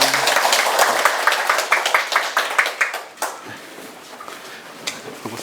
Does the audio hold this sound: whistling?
no